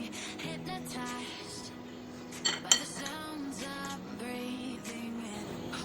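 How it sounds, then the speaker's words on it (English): A spoon works brown sugar paste around a bowl, with soft scraping and a couple of sharp clinks against the rim, while steady music plays underneath throughout. "brown sugar around 1 tablespoon, and mix all together"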